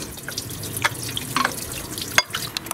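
Coolant drains from a removed thermostat housing on an overheating Yukon/Tahoe, giving a steady wet trickle with a few scattered clinks and splashes close by.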